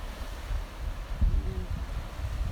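Rough sea waves wash against the shore at Camp Hill beach in Bermuda, a low, continuous rumble of surf mixed with wind buffeting the microphone, fairly faint and steady throughout.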